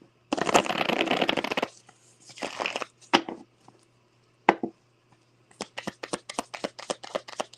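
Tarot cards shuffled in close, loud bursts: a long riffle, a few shorter ones, then a quick run of crisp flicks.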